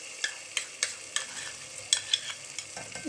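Tomato and yogurt curry base for an egg and chickpea curry, stirred and fried in a pan: soft, low sizzling under a series of evenly spaced scraping stirs, close and fairly quiet, with no talking.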